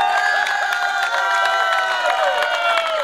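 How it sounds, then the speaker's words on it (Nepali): A crowd claps for the best goalkeeper at the 4th Dharahara Cup 2019 football prize distribution. Scattered hand claps mix with voices and cheering throughout. "जोरदार ताली हाम्रो युथ एफसीको दिपान भाइलाई"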